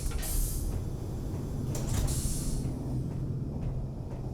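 New sliding doors on a red ship in Space Engineers, with a mechanical hiss and whoosh of doors gliding open and shut twice over a low constant hum.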